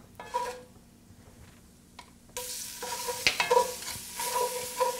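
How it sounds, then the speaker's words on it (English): Tomato paste stirred through sizzling spices in a pan, a soft frying hiss that swells loudly midway, with scraping stirs and a few light utensil clicks against the pan. "just stir the tomato paste around in the spices until it starts to turn golden"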